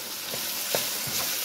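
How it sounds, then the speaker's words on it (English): A tablespoon of butter melts in a pan, giving a continuous gentle sizzle with a few faint clinks or stirs, steady and close. "Now I'm gonna add a tablespoon of butter"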